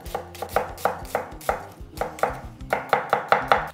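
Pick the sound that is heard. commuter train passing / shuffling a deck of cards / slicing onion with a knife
slicing onion with a knife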